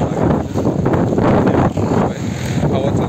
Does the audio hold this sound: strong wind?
yes